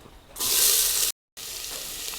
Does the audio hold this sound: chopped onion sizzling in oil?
yes